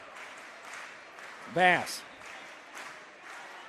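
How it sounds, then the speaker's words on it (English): Gym crowd at a high school basketball game clapping in unison, a faint rhythmic patter of many hands in the background beneath a brief spoken word from a commentator. "Everybody in the gym clapping in unison."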